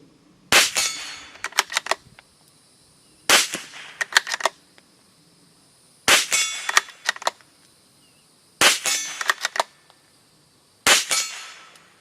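A Springfield Armory Model 2020 bolt-action rimfire target rifle is fired from a bench. Five sharp, close reports come at even intervals about two and a half seconds apart, each followed by quick mechanical clicks.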